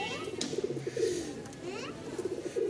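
A female dobaj pigeon and other pigeons coo softly in repeated low, rolling calls, faint and close, with a few light chirps mixed in.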